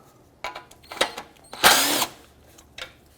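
Power driver backing out T30 Torx screws from the hood bump stops on a 2009-2014 Ford F-150, a few short close whirring bursts with one longer burst in the middle, separated by quiet pauses.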